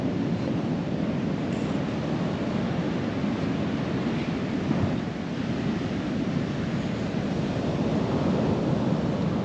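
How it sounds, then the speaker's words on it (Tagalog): Strong surf pounds a beach at Aringay, La Union, a steady broadband roar of breaking waves with wind buffeting the microphone, continuous and loud throughout with no clear gaps between breakers. "Ang nakakatakot maligo, lakas ng alon."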